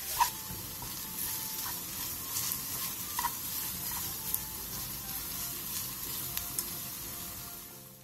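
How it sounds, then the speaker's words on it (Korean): Squid stir-fried in a dry pan over medium heat, a steady sizzle with light stirring scrapes and small pops running throughout. "마른 팬에 오징어를 넣고 중불에서 오징어의 물기가 날아갈 때까지 볶아주세요"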